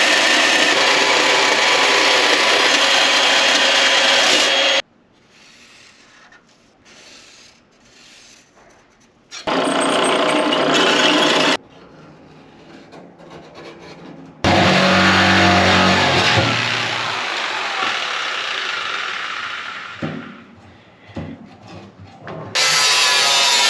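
A power cutting tool grinds loudly through a car's fuel tank to open a catch sump for the fuel pump, running in long harsh bursts separated by quieter stretches and ending with another loud burst.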